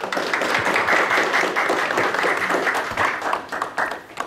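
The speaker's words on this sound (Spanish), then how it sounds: "lo dejamos con el aplauso de cada uno de ustedes para poder recibir a Mr." Audience applause at a lecture on desalination plants, steady dense clapping sustained throughout at moderate loudness, welcoming a speaker to the stage.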